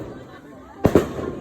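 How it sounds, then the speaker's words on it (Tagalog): At a birthday party, after a quiet stretch, two sharp firework bangs go off close together, loud and near, followed by a fading crackle. "Agad na fireworks natin"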